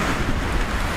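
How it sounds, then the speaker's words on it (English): Strong wind buffeting a staked-down tent at a spring lakeside campsite in Algonquin, a continuous loud roaring gust with steady flapping and rustle throughout, no talk. "It's so windy. Holy cow."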